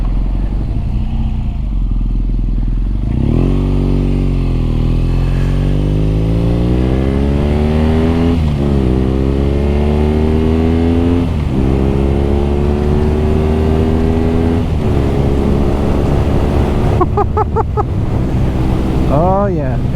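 A BMW R nineT motorcycle engine revs and pulls hard on a chilly ride. Its rising drone climbs, drops at each gear change and climbs again, loud and close under constant wind rush.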